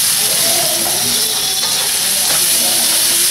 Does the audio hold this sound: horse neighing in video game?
no